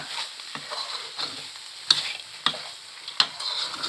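Rice-field rat meat dry-stir-fried in a pan, with a steady sizzle under repeated scraping and clanking strokes of a spatula against the metal.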